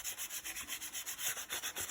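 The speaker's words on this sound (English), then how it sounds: "This is a 1800 grit sandpaper. Just going to hit that very briefly." Fine 1800 grit sandpaper rubs briskly over a wood-turned slimline pen on the lathe, making a quick, even, rhythmic rasping of many short strokes. It sounds close and fairly soft, with no talking.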